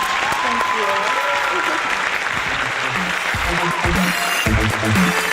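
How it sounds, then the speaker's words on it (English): An audience applauds a guest on a talk show stage, continuous clapping and cheering mixed with music and voices, loud and sustained. "a huge, huge round of applause for Miss Tara Teng"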